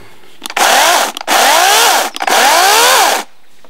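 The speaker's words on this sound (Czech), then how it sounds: "Takže teď máme krásnou Parkside pilu s Oregon lištou a Oregon řetězem." A Parkside cordless chainsaw fitted with an Oregon bar and chain runs in three loud, steady bursts of roughly a second each, separated by short pauses, close by with no voices.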